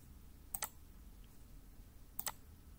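Two separate mouse clicks on a computer interface button, each a short sharp double tick, one at about half a second and another near two seconds later, close and distinct over a quiet low room hum with no talking.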